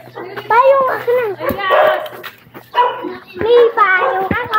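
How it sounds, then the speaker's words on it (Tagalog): A dog yips and barks in short high whining bursts close by, mixed in with someone talking over it. "Tandaan may aso."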